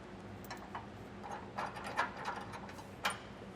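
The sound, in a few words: bolts being threaded onto hitch bracket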